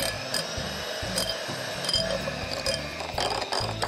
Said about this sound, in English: I have about half a cup of cream cheese that I'm going to quickly whisk up till it's nice and smooth